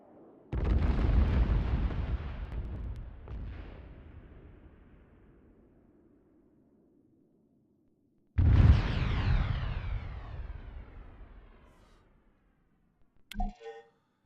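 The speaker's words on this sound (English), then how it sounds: "Airstrike." Airstrike explosions in Arma 3, two big booming blasts several seconds apart, each with a long rumbling, crackling decay, followed by a short sharp burst of sound near the end.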